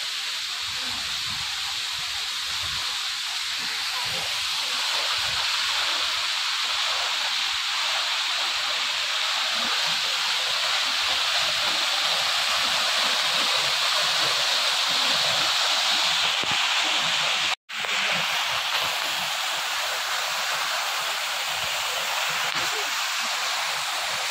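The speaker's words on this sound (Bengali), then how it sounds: "সুন্দর ওয়াটারফলসের জলটা পুরো ড্রেনের মতো করে চলে যাচ্ছে।" Water rushing from a waterfall at Jalori Pass in Himachal Pradesh, a loud steady broadband roar that continues without a break, with a brief dropout near the end.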